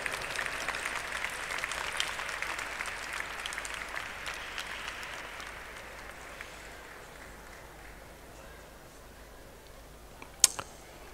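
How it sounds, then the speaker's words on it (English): An audience at a temple wing grand opening applauds with a soft, steady patter of clapping that slowly fades away, and one sharp knock sounds near the end. "I think you can clap loudly."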